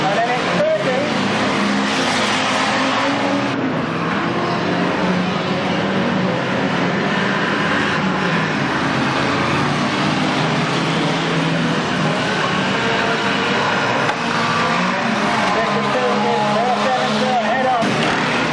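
Banger racing cars roar around a track in a continuous loud, dense engine din with passing surges, while a commentator talks over the racing throughout.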